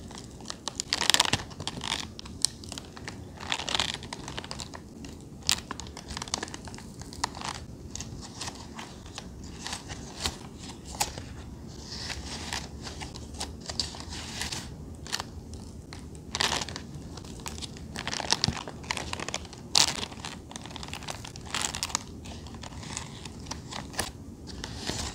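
Butterhead lettuce leaves are squeezed and crinkled up close, producing soft repeated crackles and crunchy crumples in irregular bursts over a quiet background, with no talking.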